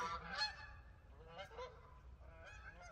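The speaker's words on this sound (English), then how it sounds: "Some Canadian geese flying by." Several Canada geese honk overhead in a few loose bursts, moderately close, against faint outdoor background noise.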